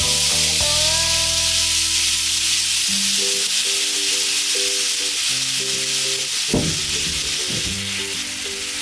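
Alcohol sizzles and steams off in a pan of mushroom risotto with rice, a steady loud frying hiss throughout, with faint utensil scrapes and tonal clinks mixed in.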